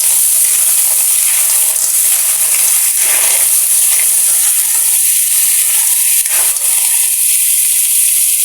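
Clams cooking in a pot for tinolang halaan soup: a steady, loud, close hiss and sizzle of steam and liquid, with faint stirring scrapes and brief shifts in the bubbling.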